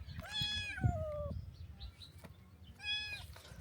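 A cat meows twice, a long drawn-out meow followed by a shorter one a couple of seconds later, close and fairly quiet with faint background noise.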